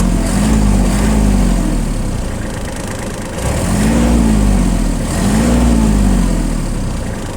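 A Japanese four-wheel-drive mini tractor engine runs nearby, rising and falling in smooth revs over a steady low rumble.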